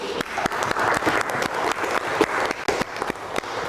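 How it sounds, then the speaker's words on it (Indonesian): A classroom of students breaks into applause after presenting their projects, a dense, steady burst of many hands clapping close by with sharp individual claps standing out, ending near a brief pause. "so I give you very big applause for you"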